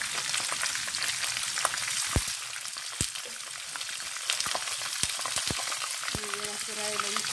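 A spice paste of lemongrass, galangal, garlic and onion sizzles in hot oil for chicken curry, a constant loud frying hiss dotted with sharp pops and crackles throughout, with no talking.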